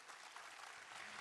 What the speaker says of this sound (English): Can y'all clap for this panel?